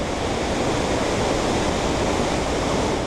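The Iguazu waterfalls, the world's largest cascade of falls, roar loud and constant, a dense unbroken rush of water with no voices.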